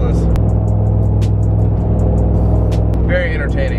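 Truck tires rolling over little rumble strips, a loud continuous low droning buzz with engine noise and a few sharp clicks, fading near the end as other sounds come in.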